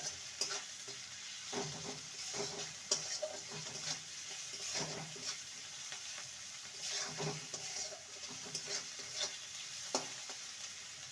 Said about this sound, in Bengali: আর সামান্য লঙ্কার গুঁড়ো ভালো করে সমস্ত মশলাকে কষিয়ে নেব